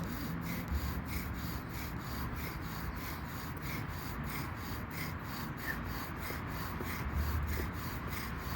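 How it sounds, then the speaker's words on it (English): Rhythmic rasping rub of a bow drill spindle against wood on a wet February day, a steady back-and-forth spinning friction repeating about twice a second, close and continuous. "I can feel it getting a little bit harder to drill"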